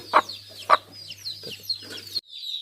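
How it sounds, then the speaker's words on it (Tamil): A naked neck rooster gives a few sharp, close clucks with short pauses between them, while soft chirping birds sound in the background. "இதுதான் நம்ம கழுத்து சேவல்"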